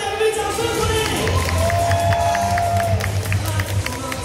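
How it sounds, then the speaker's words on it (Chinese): A baseball stadium crowd cheers and claps for the team captain, a dense, continuous roar of many voices with rhythmic chanting and scattered claps throughout. "我们再次给队长掌声鼓励。"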